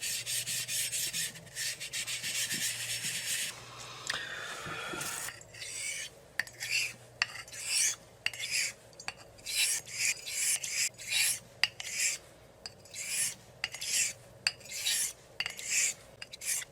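Eraser rubbed back and forth on a convex Arkansas honing stone used for straight razor sharpening, a rhythmic series of close, dry scrubbing strokes after a short scraping passage.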